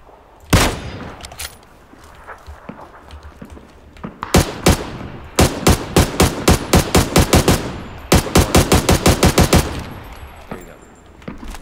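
Video game gunfire from an AUG rifle in a multiplayer match: a lone loud shot, then rapid automatic bursts of evenly spaced, punchy rounds, close and loud, with brief pauses between volleys.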